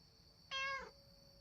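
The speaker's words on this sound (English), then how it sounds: "The fluffy white cat meows loudly as he does a figure eight around my legs." A fluffy white cat in a video game lets out a single loud, clear meow lasting under half a second, standing out over a quiet steady background hum.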